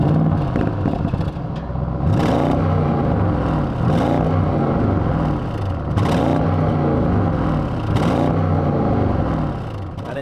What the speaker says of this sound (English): I turn the car on, we will get a more exciting startup noise